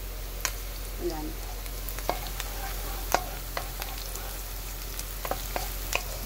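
Garlic sizzles in hot oil as it toasts, a steady low frying hiss broken by sharp clicks of a spoon or spatula stirring against the pan, with someone speaking faintly in the background.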